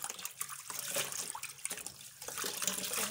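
Water runs from a tap, faintly and unevenly, over freshly cut cleavers (goosegrass) being rinsed before going into an omelette.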